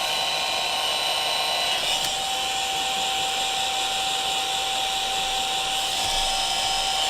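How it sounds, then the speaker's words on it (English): Heat gun blowing hot air over a Volkswagen shift knob, a steady broadband whoosh with a faint whine, held constant and near throughout with no talking. "I'm just applying heat right in this area, and it's not, whenever I'm using a heat gun, I always keep the heat moving"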